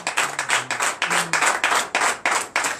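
Congregation clapping in acclamation to Jesus at a night deliverance and prophecy church service, a steady rhythmic beat of hand claps with a brief voice murmuring beneath.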